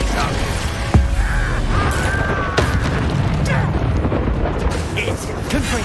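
A Confringo spell blast in Hogwarts Legacy, a loud booming explosion with a sharp crack at the start followed by rumbling, crackling debris over steady background noise, with voices talking.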